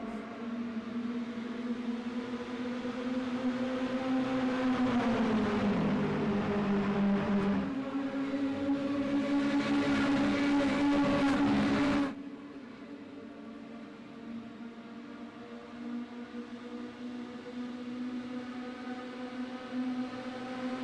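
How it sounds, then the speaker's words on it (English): Mini stock race cars at a speedway roar past together, engines climbing in pitch through the gears as one car shifts down, a loud sustained engine drone that drops suddenly midway and continues more quietly. "the sound of these cars flying through the gears, the power band"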